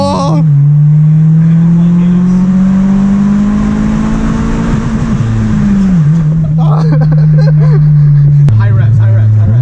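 Inside a 2004 Honda Civic Si with a manual gearbox, the engine holds a loud, sustained high-rev drone that climbs slowly, dips briefly around a shift, then settles into a steady whine, close and continuous.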